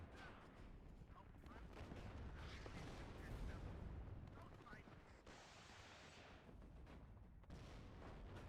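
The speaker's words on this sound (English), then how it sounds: "Still firing away." Tank cannon fire and rumbling explosions in the Cold War strategy game WARNO, with Leopard tanks engaging T-64s. Booms roll through a dense battle soundscape while a voice talks over it.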